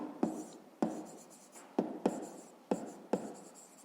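Pen writing into a table cell during a fifth-grade math exercise: a run of scratchy strokes with about six sharp taps or stroke onsets, close and fairly quiet, with no talking.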